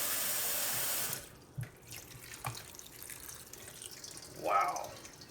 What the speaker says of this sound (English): We're going to cool that all down with some nice cold water.